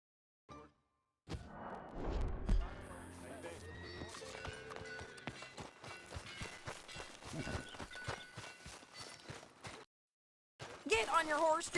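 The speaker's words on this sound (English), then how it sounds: "Get on your horse, John." A horse whinnies loudly in Red Dead Redemption 2, then hooves clip-clop along at a walk amid game ambience, with a brief pause before more movement.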